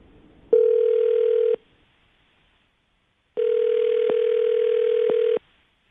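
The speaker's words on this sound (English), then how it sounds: "Let's dial the phone number right now." A steady telephone dial tone plays alone for about a second, stops, then returns for two seconds with two brief clicks of dialing interrupting it.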